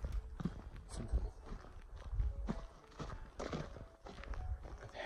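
Horses walking along a dry, fire-scarred trail on the Pacific Crest Trail, their hooves giving a steady, muffled clip-clop of footfalls at moderate distance, with faint rustling around them.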